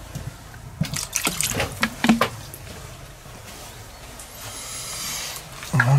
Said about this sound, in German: Aber ich tue noch ein bisschen Leitungswasser.